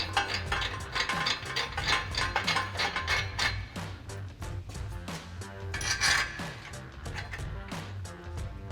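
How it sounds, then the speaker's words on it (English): Factory flange bolts on a Ford F-250 exhaust are run back in with a ratchet, giving quick metallic clicking and ratcheting strokes at close range in a garage. "we're going to reuse our factory hardware for our flange. Go ahead and get these threaded back in."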